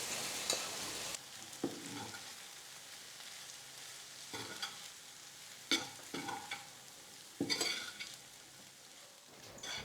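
Cooked rice stirred into masala in a pan over low to medium flame, giving a soft sizzle beneath intermittent spatula scrapes and stirring bursts, fairly quiet and close.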